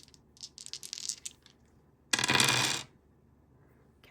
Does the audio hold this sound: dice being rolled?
yes